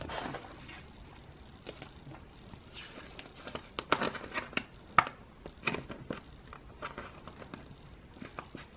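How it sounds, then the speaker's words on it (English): Trading cards are slid into plastic card sleeves while a red velvet binder is organised, giving soft, quick crinkly rustles and light taps at close range, scattered irregularly with brief pauses between them. "It's so good having to sleeve these."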